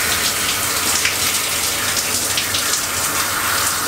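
Shower water runs in a steady, loud, hissing stream, continuous and unbroken with no talking over it.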